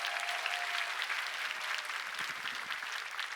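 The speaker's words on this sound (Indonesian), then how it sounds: "Tepuk tangan untuk Indonesia." A crowd at an Indonesian tolerance gathering in Yogyakarta breaks into applause, many hands clapping in a steady, fairly full patter that continues evenly for a few seconds with no talking.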